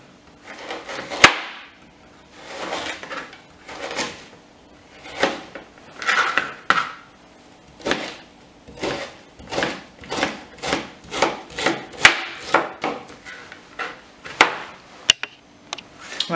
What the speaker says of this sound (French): émincer finement le gingembre